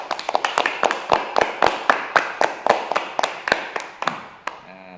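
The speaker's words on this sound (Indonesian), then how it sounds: "Tepuk tangan untuk kelompok bunga dan kelompok buah." Clapping during an online class to applaud the flower and fruit groups: a quick run of sharp, distinct hand claps, close and fairly loud, in an uneven rhythm that slows and thins out toward the end.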